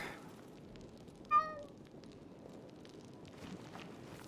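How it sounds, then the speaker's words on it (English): A cat in the Pathfinder: Wrath of the Righteous video game gives a single short meow with a clear harmonic tone, heard alone over a low ambient game background. "Yes, cat."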